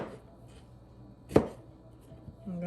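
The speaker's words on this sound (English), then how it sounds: "I'm just gonna cut up some of the strawberries" A single sharp knife chop through washed strawberries on a cutting board, with a softer second cut after, in a quiet room.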